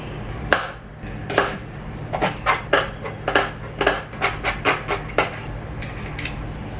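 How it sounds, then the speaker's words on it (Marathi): Onion being chopped with a knife on a board, a run of a dozen or more sharp, close taps in an uneven but quick rhythm that gradually becomes more regular, with no talking. "तर कांदा चाप करून झाला"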